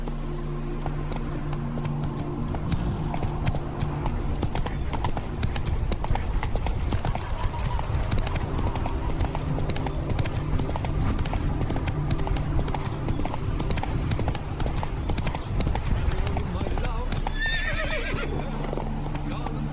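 Horse hooves clip-clopping at a steady trot in The Witcher 3, with a whinny near the end and a continuous music and ambient bed underneath, while voices speak over it.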